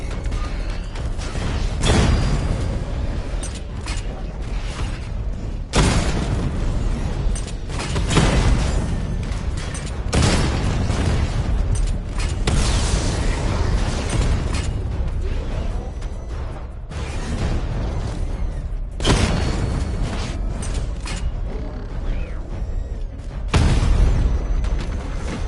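Heavy explosions from a barrage weapon in a Batman video game boom again and again over a continuous roaring rumble, each blast landing loud and close at irregular intervals.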